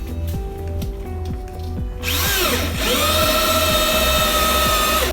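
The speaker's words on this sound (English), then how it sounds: "now we're going to drill the holes through the beam" A power drill whines steadily, then bites into a Douglas fir beam with a loud grinding, rising whir as it bores through, close and continuous.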